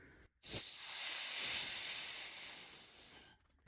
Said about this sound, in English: let's take the air out and let's have a look